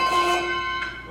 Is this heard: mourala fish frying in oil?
no